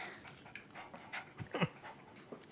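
A puppy pants and licks close up, quick soft breaths and wet licking sounds in short bursts, with a little whimper near the middle.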